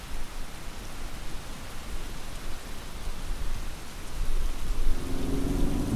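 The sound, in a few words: heavy rain and thunder outside, cartoon sound effect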